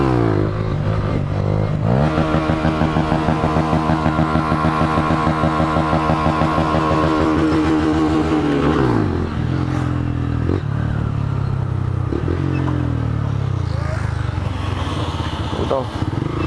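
A motorcycle revving hard while riding a wheelie near a busy bus terminal, its engine a loud, steady buzzing drone that drops in pitch as the throttle eases, with wind rumble throughout.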